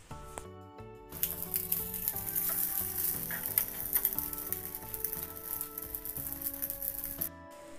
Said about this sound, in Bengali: ওই পাশটা উল্টে আমি ভেজে নিয়েছি।